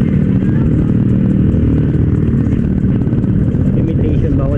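A motorcycle fitted with an SC Project exhaust pipe and a silencer, heard up close as a loud, steady, throbbing engine rumble that holds for several seconds without a break.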